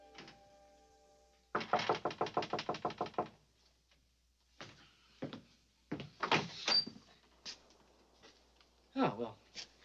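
A rapid run of about nine firm knocks on a door, followed by a few scattered thumps and knocks, then brief talk, all in a quiet room.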